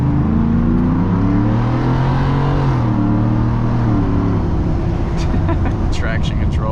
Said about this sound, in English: immediately when they hear your glorious V8 exhaust